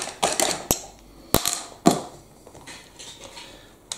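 A plastic cylinder is cut off a Bruder CAT telehandler toy during dismantling, giving a scatter of sharp snaps, clicks and small creaks at uneven intervals, with a few louder cracks standing out close up.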